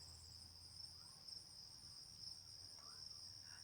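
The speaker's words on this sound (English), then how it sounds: "Listen to all the crickets." Crickets trill in a steady high-pitched chorus, faint and continuous, with no other sounds standing out.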